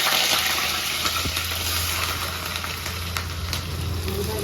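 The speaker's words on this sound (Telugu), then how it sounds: "పచ్చిమిరపకాయలు, ఉల్లిపాయలు వేయించుకోవాలండి." Green chillies and onions fry in a pan for mutton curry, giving a steady, close, dense sizzle and crackle that runs unbroken throughout with no talking.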